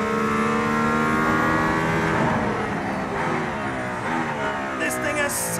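A Mercedes-AMG accelerates hard on a drive out of Barcelona, heard from inside the cabin as a loud engine note that climbs steadily in pitch through the gears, with people talking over it.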